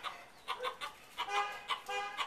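A chicken clucks repeatedly in short, choppy bursts at a steady, uneven rhythm, fairly close but soft, with no talk over it.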